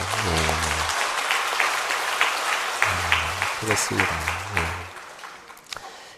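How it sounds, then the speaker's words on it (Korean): A church congregation claps for the children during a morning service, a steady patter of applause running beneath a voice as he speaks over it. "우리 아이들 박수 한번 좀 쳐주시죠"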